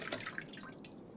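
Water being collected in the survival game The Long Dark, a brief soft trickle and drip of liquid, faint and close, with no voices.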